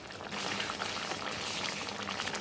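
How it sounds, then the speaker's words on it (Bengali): A small amount of water going into a simmering jackfruit curry, with a steady bubbling, liquid texture close up and no talk. "আমি এখন অল্প করে পানি দিচ্ছি"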